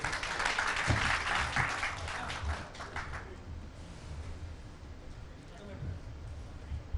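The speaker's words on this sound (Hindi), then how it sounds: "जोरदार तालियां मंत्री जी के लिए" An audience at a news channel's business forum claps loudly for a government minister for a few seconds; the applause then fades and a voice speaks.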